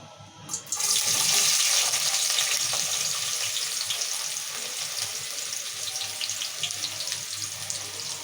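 Onions dropped into hot oil for a masala brinjal curry, a loud burst of sizzling that begins suddenly and settles into a steady, dense crackle with no talking.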